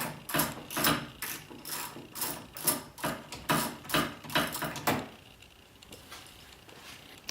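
A hand ratchet clicks in quick repeated bursts, undoing bolts on the glove box of a Can-Am Commander side-by-side; close and fairly quiet, about a dozen strokes before it stops.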